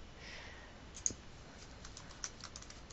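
Someone types a file name on a computer keyboard in a quiet room: faint, soft key clicks, with a couple of slightly sharper taps among them.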